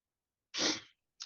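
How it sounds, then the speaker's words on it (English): A single sharp sneeze bursts out close by, loud and breathy, then trails off, followed by a brief start of another sound. "I was sneezing."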